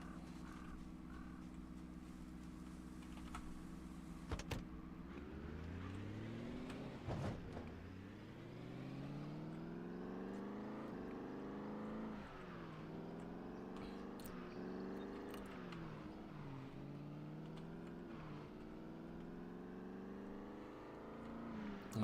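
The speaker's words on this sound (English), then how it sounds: "We will get back in the car." Car driving in the zombie survival game Project Zomboid, a steady engine drone rising and falling in pitch as it revs through gear-like sweeps, with a few sharp knocks, fairly quiet and continuous, no talking.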